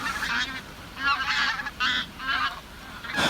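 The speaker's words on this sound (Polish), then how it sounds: "Gęsi wracają, już zimy nie będzie." Geese honk repeatedly in overlapping bursts, a loud chattering flock calling over and over with brief pauses between volleys.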